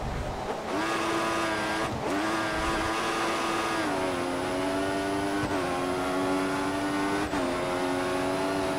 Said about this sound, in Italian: Questo il rumore del motore così è veramente una merda secondo me.